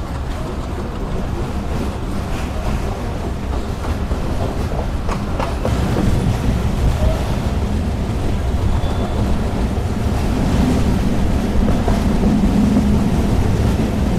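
Banglabandha Express train running toward Rajshahi after rain, a steady broad roar of wheels and carriages rolling on the rails, loud and close, with occasional clunks and no talking.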